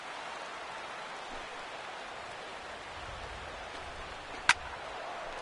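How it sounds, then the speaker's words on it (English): Steady rain hisses down over a ballpark in the MLB 16 The Show baseball video game, a soft even wash with one brief sharp tick partway through. "The rain, as we've mentioned, coming down fairly steadily here at game time."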